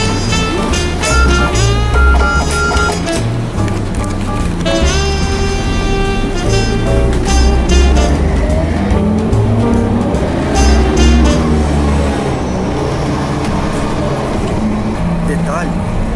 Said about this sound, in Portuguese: Olha aí, ó, o ônibus tá chegando.